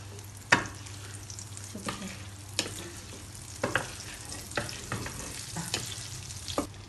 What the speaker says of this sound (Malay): On the stove and put the butter in.